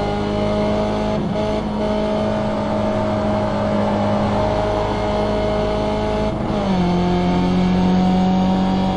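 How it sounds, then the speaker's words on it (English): Race car engine in third gear bouncing off the rev limiter through a left-hand corner at Watkins Glen in iRacing, a loud steady high-pitched drone with stuttering limiter pulses, dropping in pitch near the end, with no talk. "I stay in third gear through this left-hand corner. I let the thing bounce off the rev limiter"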